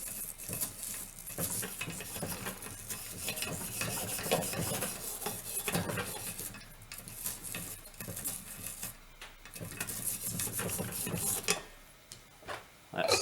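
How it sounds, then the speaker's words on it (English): A copper wire brush scrubs a Beretta A400 semi-automatic shotgun barrel during cleaning, producing close, rhythmic scraping and rasping strokes with brief pauses, while someone speaks intermittently. "I'll get the wire brush for this one, the copper one. Give it a scrub like that."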